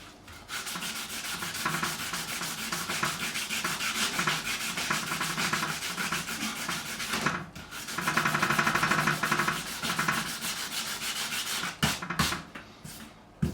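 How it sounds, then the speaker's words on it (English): Hand sanding a Stratocaster guitar neck with 120 grit sandpaper gives a rapid, continuous back-and-forth scratchy rasp, close and steady, with brief pauses near the end. "I could get some 120 grit out now and smooth this all off with some 120"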